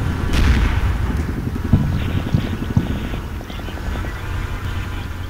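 Video-game artillery fire in Combat Mission: Shock Force, a series of low muffled thumps and rumbling impacts heard at a distance under wind-like noise, with a few sharper reports in the middle.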